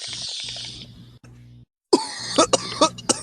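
A person coughs several times in sharp, close bursts during a podcast recording, after a stretch of low hum and background noise with a brief silent gap.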